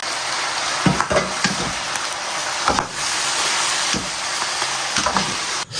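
Pork skin crackles and hisses while being stir-fried, a dense close sizzle punctuated by scattered sharp pops and spatters, with no one speaking.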